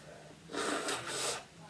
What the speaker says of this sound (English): Oh, I've really got the sniffles.